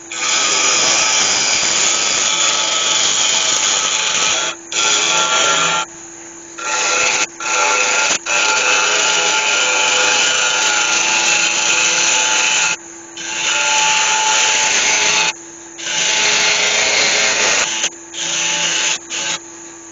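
A yew and resin lidded box being turned on a lathe, a loud continuous rasping cut that stops and restarts in several bursts with brief pauses between, close up and without talk.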